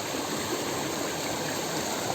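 Small stream flows near the Aare waterfalls, a steady close rushing and gurgling of water with no pauses.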